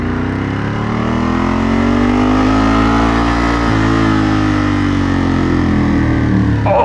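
A Ducati 916 motorcycle revving loud and close inside a tunnel, its engine note rising and falling in one continuous harmonic roar with echoing reverb and no talk.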